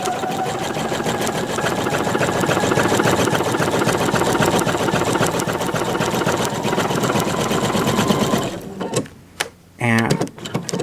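A sewing machine stitches a buttonhole on a dress facing, a steady loud mechanical whir of rapid needle strokes running continuously for about eight seconds before stopping, followed by a few scattered handling clicks and thumps.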